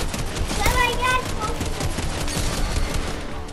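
Computer-controlled characters firing guns in Fortnite, rapid overlapping shots forming a busy, loud fusillade that carries on steadily.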